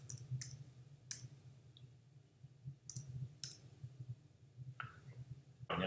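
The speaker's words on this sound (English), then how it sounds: "And then hit return on the keyboard." Sharp key clicks from a computer keyboard, including a return key press, sound as a few separate taps spread across a quiet room with a low steady hum beneath, the last strike slightly louder.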